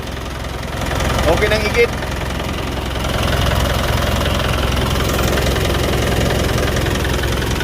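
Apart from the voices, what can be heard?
overhauled engine idling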